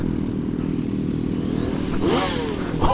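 Yamaha FZ9 motorcycle being ridden, its engine a steady loud drone throughout, with a rising sweep near the end as the revs climb, no talking.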